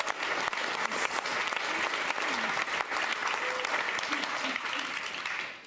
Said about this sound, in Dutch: geef hen ook een warm applaus